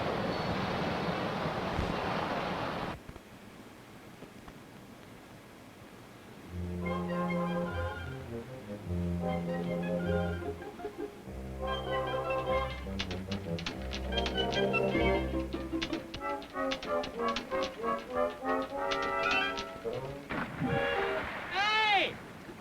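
Water bursts out of a pipe during a Dust Bowl water dispute, a loud, hissing rush for the first few seconds before it drops away beneath music and voices.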